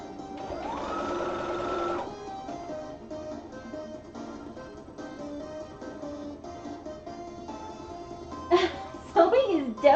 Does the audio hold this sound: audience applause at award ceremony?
no